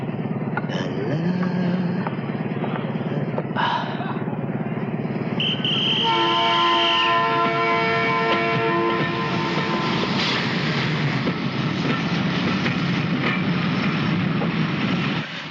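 A train engine runs loudly and steadily throughout, with rumbling wheels on the rails and a sustained whistle-like horn tone joining midway, the noise continuous and close.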